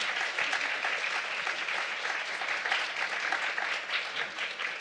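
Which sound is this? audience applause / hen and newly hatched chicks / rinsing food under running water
audience applause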